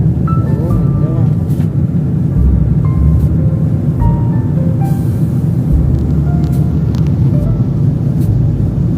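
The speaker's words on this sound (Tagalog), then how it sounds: "Ang ingay ng aeroplano." Airplane cabin during landing at the airport in Cebu, Philippines: a loud, steady low roar fills the whole stretch without letup, with faint voices and brief tonal sounds drifting above it.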